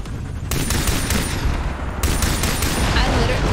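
Rapid automatic gunfire in the shooter Far Cry 3, dense bursts of shots starting abruptly and continuing loudly throughout, with a sharp surge about two seconds in.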